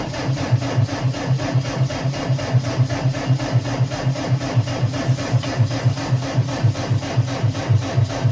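The engine of a snow plow machine, boosted with jumper cables, churns in a rhythmic, repeated labouring pulse as it cranks, loud and close throughout, with no voices.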